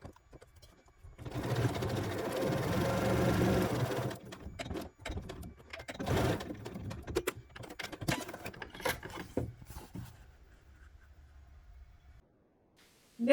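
A sewing machine stitches a seam on a fabric cube: first a loud, continuous whirring run, then a series of shorter, choppy bursts of stitching with brief pauses, ending in quiet.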